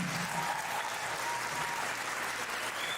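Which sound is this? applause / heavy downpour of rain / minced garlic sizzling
applause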